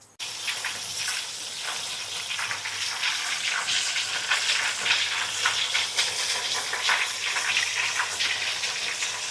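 Battered mushroom slices deep-fry in a wok of hot oil, giving a steady, dense, loud sizzle and crackle that lasts throughout with no talking.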